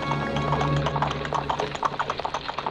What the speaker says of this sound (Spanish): Don Francisco Javier venía de misa y llegaba justamente en ese momento a Palacio en su gran carruaje.